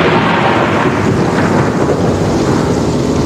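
A storm sound effect under a spoken tale: heavy rain and rolling thunder roar continuously and loud, a gale-driven downpour of the kind that tears a clay-tiled roof off a hut and melts mud walls.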